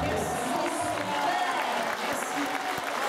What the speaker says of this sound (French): Hé, tu vois, ils applaudissent.